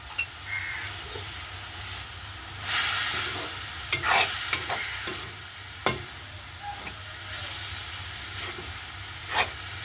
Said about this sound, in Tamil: பிரட்டின தேங்காய் பூவை இதோட சேர்த்து கிளறி விட போகிறோம்